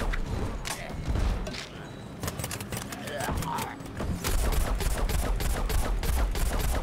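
Rapid bursts of gunfire in Plants vs Zombies Garden Warfare 2 crackle through the game's mechanical noise, loud and near, while a voice is faintly present.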